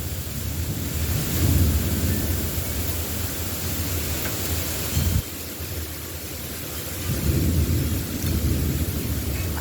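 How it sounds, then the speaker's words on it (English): Hail and heavy rain fall in a Florida thunderstorm as a dense, loud, continuous roar that swells and eases slightly, with no voices. "It's dropping little chunks of ice from the sky."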